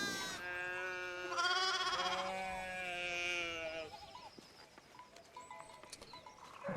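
Sheep in Pentiment bleat in a run of several wavering, nasal calls, close and clear, followed by quieter scattered rustling and faint background noise.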